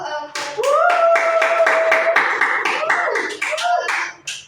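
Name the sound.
classroom applause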